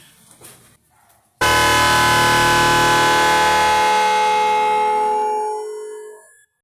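A loud, continuous motorcycle horn blast starts abruptly after some quiet shuffling and holds steady for about four seconds before fading out.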